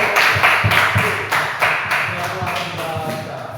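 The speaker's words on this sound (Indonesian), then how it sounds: "Tepuk tangan untuk kelompok." A classroom of students applauds a student group after a storytelling presentation, steady rhythmic clapping at moderate loudness with voices talking beneath it.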